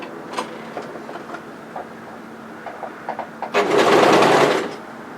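A sewing machine stitches a seam on a sweatshirt hoodie dress, with scattered close clicks and fabric handling first, then a loud, steady run of stitching lasting about a second.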